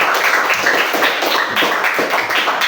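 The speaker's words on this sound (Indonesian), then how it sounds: "Ya, tepuk tangan." A classroom of students claps hands together in a loud, steady round of applause, many quick overlapping claps close by and continuing without pause.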